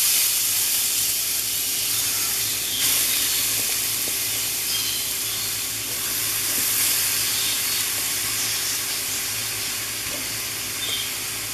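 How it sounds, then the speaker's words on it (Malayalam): Grated carrot dropped into hot ghee in a pan for carrot halwa, giving a loud, continuous sizzling hiss that holds steady throughout with slight swells as more carrot goes in. "റൈസിൻസ് എടുത്ത് മാറ്റിയ നെയ്യിൽ തന്നെ നമ്മൾ എടുത്ത് വെച്ച് ഇങ്ങനെ ഗ്രേറ്റ് ചെയ്ത് ക്യാരറ്റ് ഇട്ട് കൊടുക്കാം കുറച്ച് കുറച്ചായിട്ട്"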